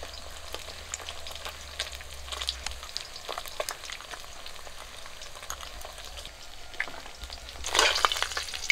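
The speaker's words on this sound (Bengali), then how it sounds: "মাছগুলো ভাজা হয়ে গেছে" Pabda fish frying in hot oil, a steady close crackle and sizzle with scattered pops, swelling into a louder burst of spattering near the end.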